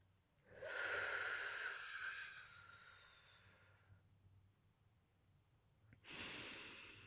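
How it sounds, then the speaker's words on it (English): A singer exhales slowly and at length as a breathing exercise: one long airy outward breath lasting about three seconds fades away, then a sharp inhale follows near the end, close and intimate with no talking. "I take all the time I need to get all the air out."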